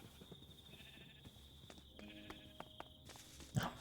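Sheep on a video game sheep farm bleat faintly in the distance, mixed with soft footsteps and a steady ambient tone, with one brief louder bleat near the end.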